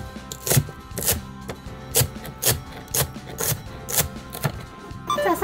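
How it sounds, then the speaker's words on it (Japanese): Turnip leaves being finely chopped with a knife on a board, a brisk series of sharp evenly spaced cuts, close and clear, with a short rustle at the end. "カブの葉は細かく切ります。"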